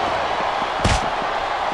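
A wrestling reversal slam in Smackdown vs RAW 2007 lands as a single sharp, heavy thud about midway, set against a constant roaring crowd.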